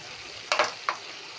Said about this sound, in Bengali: এবার একটু ধনে আর জিরে শুকনো গরম কড়ায় নেড়ে গুঁড়ো করে